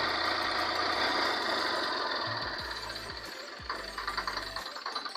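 A Swaraj 744 tractor engine idles nearby with a steady, knocking rumble that falls slightly and turns more uneven toward the end.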